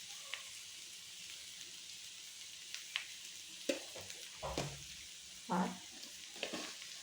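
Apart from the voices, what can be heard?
stirring Bengali shukto vegetables frying in a pan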